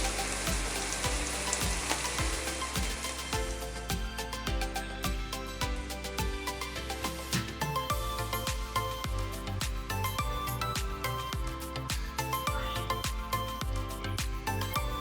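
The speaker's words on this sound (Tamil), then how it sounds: "திராட்சை மட்டும் உங்களுக்கு நல்லா பொரிஞ்சு வரணும்." Raisins sizzle and crackle in hot fat in a pan, a dense steady frying hiss with many small pops running throughout, close and continuous with no talking.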